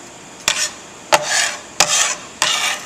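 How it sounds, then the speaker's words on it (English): A dough scraper scoops chopped salsa vegetables off a board in four sharp scrapes, each a quick gritty rasp with a short wet shuffle after it, close and alone at an even pace. "I'm just picking this up with a dough scraper"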